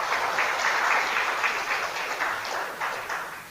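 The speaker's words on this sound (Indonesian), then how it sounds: "Tepuk tangan" A small audience claps together at a religious lecture, a steady patter of hands that holds for a few seconds and then thins out toward the end.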